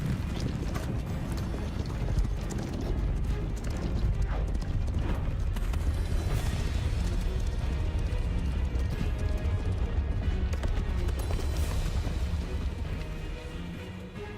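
Centaur hooves in the Hogwarts Legacy video game clop steadily and heavily across the ground, a continuous galloping rhythm with faint background rumble and almost no talk.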